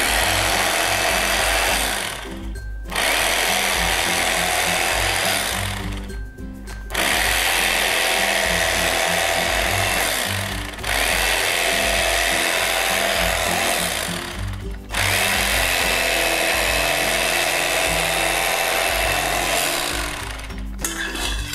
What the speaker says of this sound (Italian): Io uso il coltello elettrico per comodità.